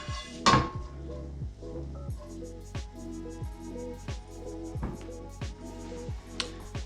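Cooked sausage scraped from a pan into a bowl, a series of soft metallic clinks and knocks from a utensil at a steady rhythm, close and quiet, after one louder clatter near the start.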